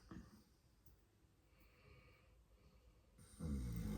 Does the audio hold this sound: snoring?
yes